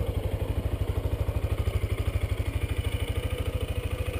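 A fuel-injected Suzuki TU250X single-cylinder motorcycle engine idles close by with a fast, even, steady thumping beat and no talking.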